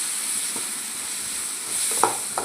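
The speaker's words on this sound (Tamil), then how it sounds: "ஒரு பெரிய சைஸ் தக்காளி எடுத்துருக்கேன். அதை நல்லா வதக்கி எடுத்துடலாம்." A large tomato sautéing in a pan, giving a steady close sizzle with a few sharp clinks and scrapes of stirring near the end, no voices.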